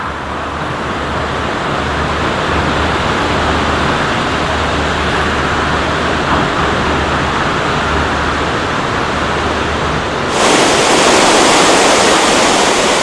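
An Alpine waterfall gives a loud, continuous rushing roar of falling water that holds steady, then grows brighter and louder near the end.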